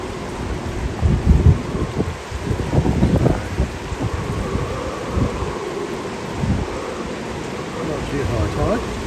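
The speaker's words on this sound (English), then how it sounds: "The rain's getting heavier." Heavy rain pours onto a sailboat while wind blows, a dense steady hiss with uneven surges and spattering bursts that stays loud throughout.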